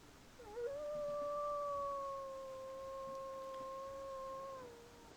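A single wolf lets out a long, higher-pitched howl, rising at the start and holding a steady tone for about four seconds before tapering off, clear and alone over faint background hiss.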